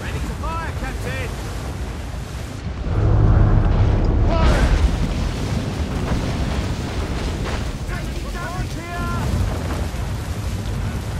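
Heavy booming blasts of ship cannons firing in the naval game Assassin's Creed Rogue, a loud surge of deep rumble over wind and sea noise, with a voice talking.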